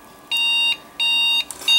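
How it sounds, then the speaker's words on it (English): Three clear electronic beeps from a Pentium 3 computer's motherboard diagnostic, each about half a second long, evenly spaced and close, with faint background hum between them. "3 beeps and some red lights there"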